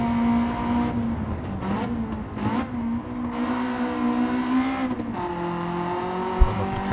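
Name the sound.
VTEC car engine accelerating at the Nürburgring, from a racing video game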